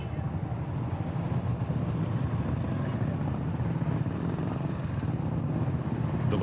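A motorbike rides along a road in Ladakh toward Leh, its engine a steady low drone mixed with wind rush, continuous and unbroken.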